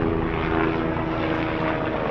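A propeller airplane passes overhead above a bridge in the Dutch countryside, its steady droning engine roar loud and continuous throughout, with no voices.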